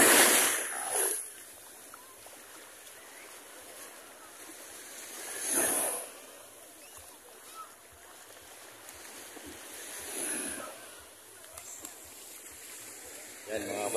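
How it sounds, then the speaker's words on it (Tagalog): Waves wash in and break a few times at a distance on a beach, soft surges of spray over a steady low rumble of moderate surf. "yung alon ay medyo tamtaman na yung laki"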